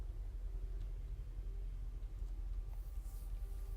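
A car driving in the video game Anarchy Online, a low constant engine rumble with faint hissing rain noise layered over it, steady throughout.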